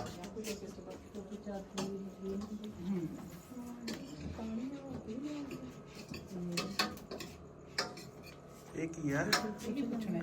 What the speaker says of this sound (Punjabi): ਇਹ ਸਾਰੇ ਪਿੱਤਲ ਦੇ ਭਾਂਡੇ ਹੈ